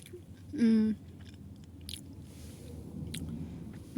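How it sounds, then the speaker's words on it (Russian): Soft, close chewing of a bun, quiet moist mouth sounds and small bites heard faintly over a low room hum, with a brief tonal noise early on. "Кушаю булочку."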